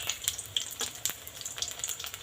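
Onion ring pakoras frying in hot oil, a soft steady sizzle with scattered crackling pops, faint and close.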